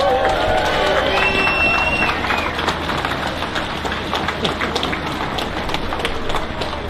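A large outdoor crowd at a farmer protest in London bursts into sustained clapping and cheering for the police, with a few whistles early on, dense and continuous throughout.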